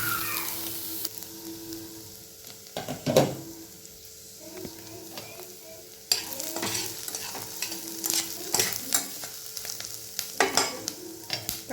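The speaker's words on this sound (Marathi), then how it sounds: "तर हे तीन कांदे फ्राय करून घेणार आहेत तुपामध्ये" Onions fry in ghee with a low, steady sizzle broken by frequent scraping and clattering stirring strokes, close by and with no talking.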